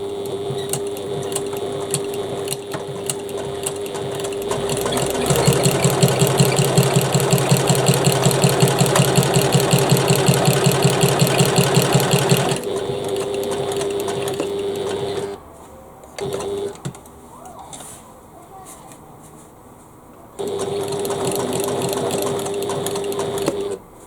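A sewing machine stitches the pocket lining of a bag in long, steady runs with a constant whirring hum and fine rapid ticking, stopping briefly with small handling noises before starting again.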